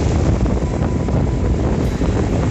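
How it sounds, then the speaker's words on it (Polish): Strong, cold wind at the seaside beach buffets the microphone in a loud, continuous roar, with no voices. "Wiatr się wzmaga, coraz zimniejszy."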